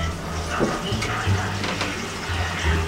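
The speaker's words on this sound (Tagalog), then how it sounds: "Ipon lang tayo ng tubig." Water running from a tap and being collected in a container, a steady splashing flow with filling gurgles, close and moderately loud, with faint voices underneath.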